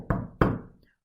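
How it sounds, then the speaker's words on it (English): Two heavy knocks from a door knocker striking a door, close and loud, each with a short resonant decay. "which would be somebody knocking on a door"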